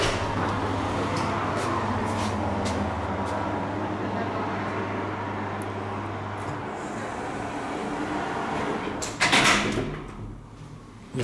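A KONE roped hydraulic elevator door in a building in Söderhamn, Sweden slides shut with a steady low rumble and hum, ending in a louder thud and rattle as it closes.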